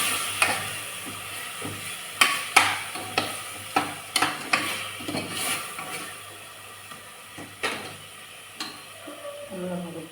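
Curd sautéing with biryani masala for a country-chicken biryani, a steady sizzle broken by repeated scraping strokes of a spoon stirring the pan, close and moderately loud, no speech.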